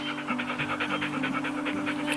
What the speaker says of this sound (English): good doggy doggy